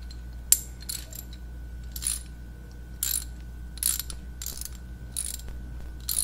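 A 3/8 ratchet wrench from an emergency car tool kit clicks as it loosens, sparse quick bursts of metallic ratcheting spaced about a second apart, close and fairly quiet with no talk.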